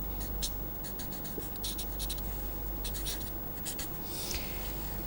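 A pen scratches out a vector diagram by hand in short, quiet strokes, several brief scribbles separated by pauses, close up over a low steady hum.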